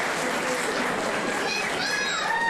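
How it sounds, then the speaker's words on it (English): Crowd applause after a fight at a fight night, a brief dense burst of clapping with scattered whoops and voices rising in it. "All right, another round of applause right there"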